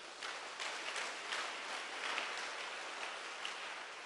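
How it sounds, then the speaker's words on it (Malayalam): Audience applause at a Malayalam Christian retreat service led by Fr George Panackal, a dense, steady wash of many hands clapping together for about four seconds, moderately loud with no talk over it. "ഒന്ന് കൈയടിച്ചേ."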